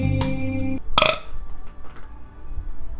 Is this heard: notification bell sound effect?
no